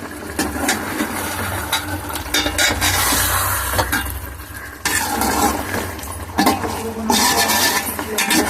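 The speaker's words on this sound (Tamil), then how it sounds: "நடுவில் கிண்டி விட்டுக்கோங்க." A spoon stirs chicken biryani in a cooking pot, making repeated scraping strokes and metallic clinks over a faint background sizzle, close and irregular.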